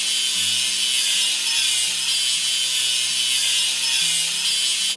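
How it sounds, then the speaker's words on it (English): In a children's LEGO train building game, a seam is ground with a continuous harsh, hissing mechanical grind that holds steady and loud for several seconds over soft low musical tones. "And now let's grind the seam."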